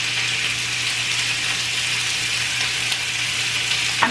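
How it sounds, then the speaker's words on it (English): Constant loud sizzling of chopped chicken frying in a hot pan, a dense crackling hiss with no talking. "now that all of our chicken is chopped, we're just gonna take it and throw it in the pan."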